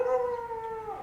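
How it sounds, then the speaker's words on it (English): Temple dogs in Chiang Mai, Thailand, let out a single close, sustained howl that holds a steady tone and then bends at the end, with no talking over it. "here comes the temple dogs."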